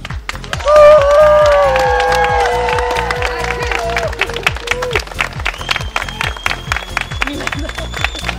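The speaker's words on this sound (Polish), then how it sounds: "ja mówię start, a my klaszczymy, krzyczymy, piszczymy, żeby COVID uciekł" Students in a hall clap together in a loud, steady rhythm, mixed with shouting and high squeals that rise early and then fade while the clapping continues.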